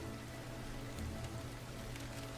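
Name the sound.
rain falling in the video game Farmer's Dynasty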